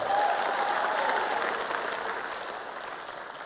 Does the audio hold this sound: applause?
yes